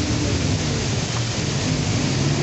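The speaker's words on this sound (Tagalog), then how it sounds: "Lumakas po itong ulan." Heavy rain pours down at a city hall, a dense, unbroken roaring hiss that stays loud and close for the whole stretch, with no voices.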